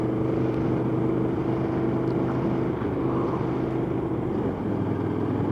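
A 2014 KTM Super Duke 1290 R motorcycle engine holds a steady, droning hum at about 3000 rpm in third gear while riding along at roughly 50 km/h, loud and close with constant wind rush over it.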